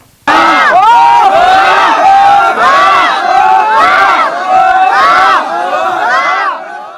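Villagers carrying freshly cut green bamboo to a Kerala temple during a festival ritual raise loud, rhythmic collective shouts and cheers, near and sustained in repeated surging chants for several seconds.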